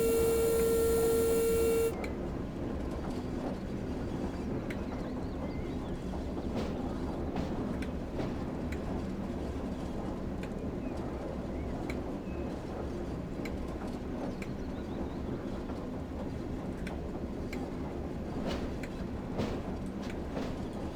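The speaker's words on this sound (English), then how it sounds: "Even this chugging along at 4 miles an hour is fine." An old diesel locomotive in Train Sim World 2 on the West Somerset Railway chugs slowly along at about four miles an hour, a steady low rumbling drone with faint clanks, after a brief opening tone.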